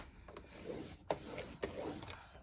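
A tool scores paper along a scoring board for a Christmas candy bar and gift card holder craft, a few short rubbing scrapes in a slow rhythm with soft taps between strokes, close and quiet.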